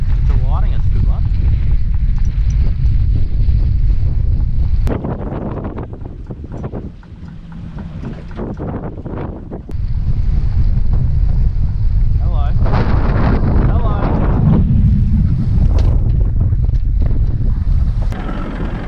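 Strong wind buffeting the microphone on a small fishing boat at sea, a loud continuous low roar that eases for a few seconds midway and then gusts back up.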